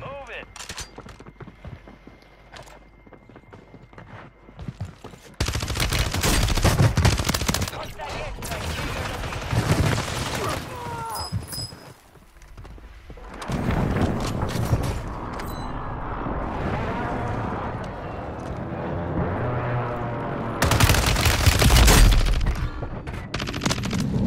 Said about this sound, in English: Man, that gun shoots steady